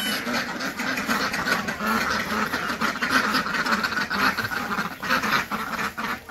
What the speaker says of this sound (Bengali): নিলয় তোমার হাঁস এসে পড়ছে